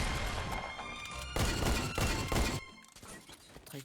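Carbine rifle gunfire in Fortnite, a loud burst of rapid shots followed by a second dense volley, then quieter scattered game sounds toward the end.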